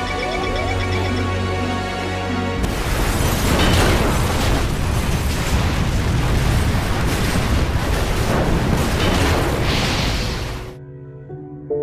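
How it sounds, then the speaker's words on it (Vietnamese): A dramatized explosion at the tail of a China Airlines Flight 611 airliner bursts in abruptly after soft music, becoming a loud, sustained roaring rumble for about eight seconds before cutting back to music. "một tiếng nổ lớn phát ra ở đuôi máy bay"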